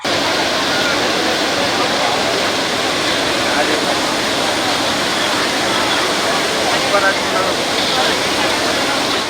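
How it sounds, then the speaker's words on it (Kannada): The Tungabhadra river at Harihar, swollen and flooding after heavy monsoon rain, gives off a loud, continuous broadband roar of rushing water, steady throughout with no pauses. "ಹರಿಹರ ಪಟ್ಟಣದ ಮೂಲಕ ಹಾದು ಹೋಗುವ ತುಂಗಭದ್ರಾ ನದಿ ಇದೀಗ ಮೈದುಂಬಿ ಹರಿಯುತ್ತಿದ್ದು"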